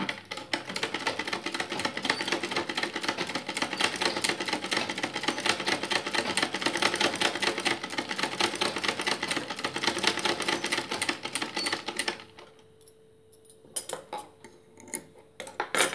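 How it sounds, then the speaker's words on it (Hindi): Household sewing machine stitching fabric while misbehaving and bunching its stitches, a loud, fast, even mechanical rattle that runs steadily for about twelve seconds, then stops, leaving faint clicks and handling noise. "आइए सबसे पहले हम आपको सिलाई करके दिखाते हैं कि हमारा सिलाई किस तरह से"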